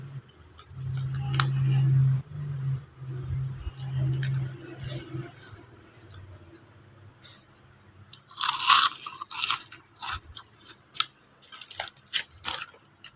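Homemade kangkong (water spinach) chips topped with cheese are bitten and chewed up close. The loud, sharp crunches come in bursts during the second half, after a quieter stretch with a low hum.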